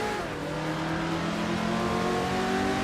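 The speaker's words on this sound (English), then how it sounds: "Agrades 34 is driving a 1972 Lamborghini Jarama S." A 1972 Lamborghini Jarama S engine in a racing video game drones at steady high revs, a continuous harmonic whine with slight pitch drift, moderately loud and unbroken.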